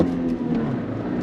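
A 2024 Toyota Tacoma TRD Sport with a 6-speed manual accelerating on throttle, a steady low engine drone heard close from inside the truck.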